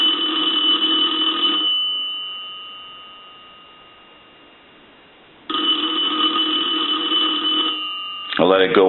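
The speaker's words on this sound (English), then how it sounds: "So we'll go ahead and we'll ring the telephone" An A&E three-slot payphone bell rings loudly in two long bursts separated by a quiet gap, then a brief voice begins at the very end.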